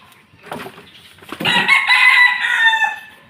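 A white Kelso rooster gives a few short clucks, then lets out one loud, close crow that rises and holds for over a second before tapering off, with no talking.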